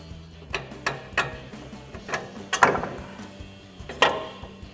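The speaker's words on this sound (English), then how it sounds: "Next, we can remove our lower strut bolt." A wrench works the lower strut bolt on a front suspension, a run of sharp metallic clicks and knocks at uneven intervals, close and without talk.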